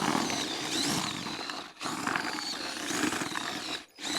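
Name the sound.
power drill mixing groundbait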